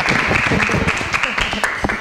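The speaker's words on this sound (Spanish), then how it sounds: "Un aplauso para Vicente, que acaba de llegar" An audience at a local festival gathering breaks into applause for a man who has just arrived, a steady patter of many hands clapping close by with voices talking over it.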